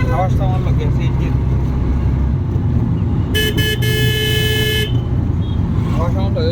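Road traffic in Bhanugach with a CNG auto-rickshaw nearby: a steady engine and traffic rumble runs throughout, and a loud, sustained horn blast sounds near the middle. Voices are faintly audible in the background.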